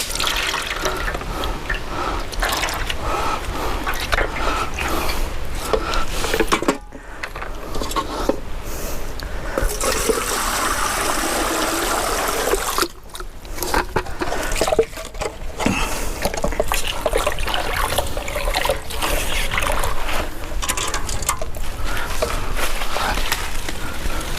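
Water poured to dilute rubber latex during rubber tapping work in Kannur, a steady liquid splashing and trickling that runs near and continuous, with two brief pauses in the stream.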